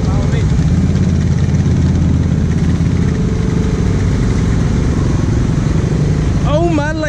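A Honda Rubicon ATV on 30-inch Mamba tires runs off-road, its engine rumbling loud and close and churning steadily. Voices talk over it, and a brief whine rises near the end.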